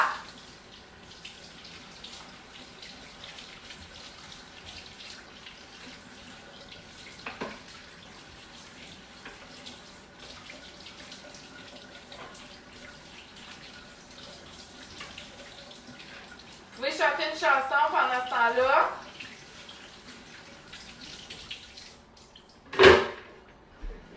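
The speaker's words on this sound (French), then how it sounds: "Là, je le rince pour qu'il soit froid." Tap water runs over macaroni being rinsed in a plastic Tupperware colander, a short splashing burst in the middle of a quiet kitchen, with a sharp knock near the end and a voice speaking briefly.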